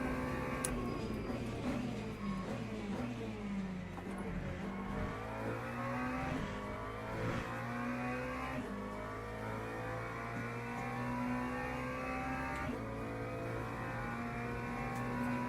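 Engine of a McLaren race car in the sim racing game Le Mans Ultimate, droning steadily with continuous revving and gear shifts, loud and close throughout, with no talking.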